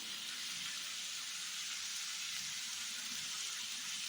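Steady, dense sizzling of a spice paste frying in a hot pan for a fish roe curry, continuous and close with no pauses.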